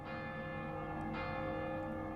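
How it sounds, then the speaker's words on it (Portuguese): Church bells of Viviers ring in the distance, a steady resonant tolling with sustained overlapping tones and no voices. "À distância, podemos ouvir os sinos de Viviers"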